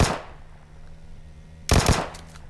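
Vector burst fire in PUBG Mobile, shot at range: a short sharp burst opens, then after a pause a second, louder rapid burst of gunfire rings out.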